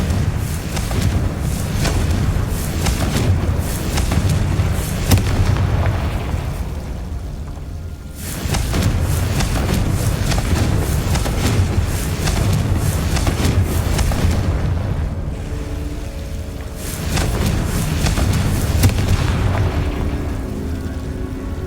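Repeated Confringo fire-spell blasts in Hogwarts Legacy gameplay, booming explosions layered over a dense, loud game soundscape that runs almost without a break, with short dips between bursts.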